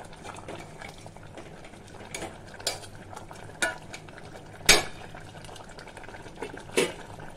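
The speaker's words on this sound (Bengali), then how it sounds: "আবার উপর নিচ করে দেব।" A pot of drumstick leaves at a rolling boil is stirred, with a steady bubbling bed broken by several sharp scrapes and clinks of a utensil against the pot, one especially loud, with no talking.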